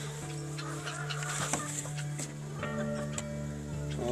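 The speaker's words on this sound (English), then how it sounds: "I want to get the chickens in the window." Chickens cluck and murmur inside a chicken house on a family farm, with scattered short calls over a steady low hum, fairly close and moderately loud.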